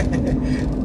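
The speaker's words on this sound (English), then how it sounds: "big truck here." A big truck rumbles past on the road, a steady low, loud roar with rattling, rolling over the short moment without any talk.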